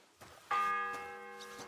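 A single church bell tolls in the video game Kingdom Come: Deliverance 2, one clear strike that rings out with a long, slowly fading metallic hum, after a few faint soft knocks.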